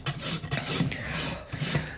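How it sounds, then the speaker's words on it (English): A farrier's rasp files a badly neglected, dished and distorted horse hoof, giving close, rhythmic rough scraping strokes that repeat steadily throughout. "Rasping is the hardest part of this job, in my opinion."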